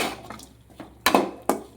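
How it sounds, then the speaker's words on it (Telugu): A few utensil clanks against a pan while stirring raw banana fry, with two sharper scraping knocks near the end, close and moderately loud. "ఇలా వేసుకొని ఇలా కలుపుకోవాలండి"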